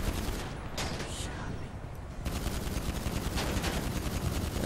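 Sustained automatic gunfire aimed at a helicopter in GTA Online, a dense continuous rattle of shots that keeps going with barely a break, loud and close.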